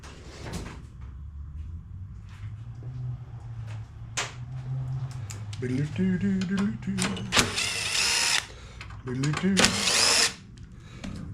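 Power drill fitted with a quarter-inch socket backing small screws out of a Craftsman self-propelled push mower, several short whirring bursts with clicks and clatter between them, close by, with someone talking.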